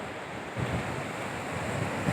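Sea waves wash in at Lingayen Beach, a steady, moderately loud surf roar mixed with some wind, with a few slightly stronger swells breaking near the end.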